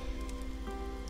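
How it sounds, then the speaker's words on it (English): Rain patters steadily in the Roblox video game, a soft continuous hiss of drops under a low tonal game hum, with no talking. "As soon as I ask for a party, it starts raining."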